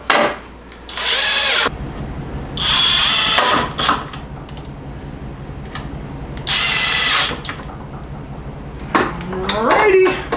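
A power drill driving screws into a wooden board during a van bed build, in several loud whirring bursts of one to two seconds separated by pauses, with clattering handling noise between.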